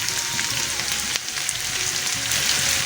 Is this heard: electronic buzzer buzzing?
no